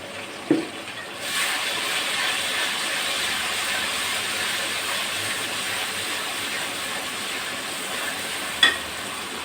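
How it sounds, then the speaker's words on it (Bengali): Spice paste for a raw tilapia chorchori fries in a pan, a steady broad hissing sizzle setting in after a knock and holding evenly, with another brief clack near the end. "ভালো করে মশলাটা কষাতে হবে"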